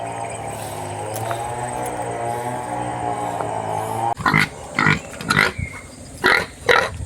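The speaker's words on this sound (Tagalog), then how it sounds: "May baboy dito, mga kababayan, no?" A pig on a farm grunts in a rapid series of loud, close, choppy bursts after a steady mechanical buzz drones alone for the first few seconds.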